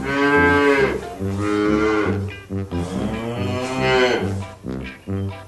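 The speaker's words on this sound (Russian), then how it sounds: "Это корова." A cartoon cow moos in a barnyard scene, several drawn-out low lowing calls, loud and close, one after another with brief pauses between them.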